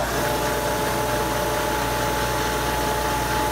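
A belt sander running continuously on a wooden peg box, a steady loud motor whine and grinding hiss with no pauses.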